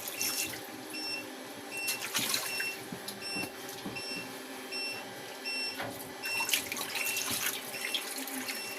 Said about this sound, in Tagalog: Ganito ang sikreto paglinis ng ano, isda sa tubig.